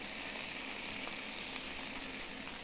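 Broccoli cooking in a pan for a Sardinian pasta dish with pecorino gives a steady, even sizzle of frying, continuous and fairly close, with no talking.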